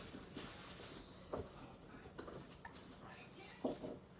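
Borax being stirred into slime in a bowl, soft scraping and occasional light clinks of a utensil against the bowl, faint and close against a quiet room with low background murmur.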